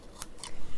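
Scissors cut along a corner in a pair of quick, crisp snips, close and fairly quiet against a soft background.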